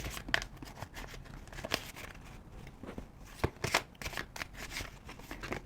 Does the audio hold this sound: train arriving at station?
no